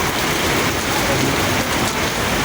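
Heavy rain pours onto flooded streets in Hemayetpur, where the water stands deep enough to half-submerge cars. The downpour is a dense, steady, loud hiss that never lets up across the whole stretch.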